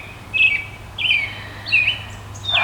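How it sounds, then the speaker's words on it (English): A loud small bird gives four sharp, clear chirps spaced about half a second apart, close by, over a faint steady background hum. "That is one loud little bird, isn't it?"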